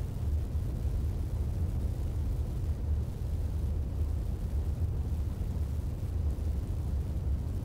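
Steady, continuous low roar of Saturn V rocket engine ignition in the Orbiter 2016 spaceflight simulator, a dense rumbling wash of noise that holds constant throughout without breaks or voices.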